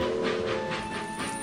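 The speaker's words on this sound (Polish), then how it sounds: "Tak, puszczamy tutaj pociąg" Steady mechanical train hiss and rolling rumble in the Next Stop 2 video game, with faint sustained tones and soft rhythmic swells running continuously at even loudness.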